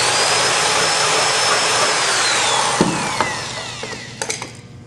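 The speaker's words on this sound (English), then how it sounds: "Occasionally you may need to ream them out." Power reamer spinning continuously through rivet holes in a sheet metal tool box, a loud steady whirring grind that fades toward the end with a few brief metallic clicks and knocks, no talk.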